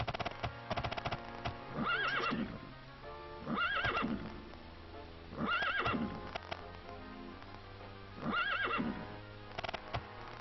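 A horse in the Daggerfall video game neighs four times in long whinnies spaced a couple of seconds apart, over steady clip-clop of hooves.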